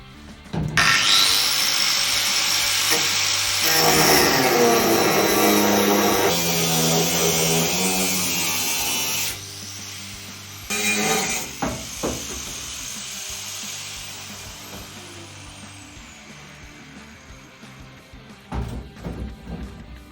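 An angle grinder fitted with a fresh disc cuts out a rusty panel on a Cosworth track car, screaming loudly and steadily for several seconds, then grinding on in rougher, fading bursts close by.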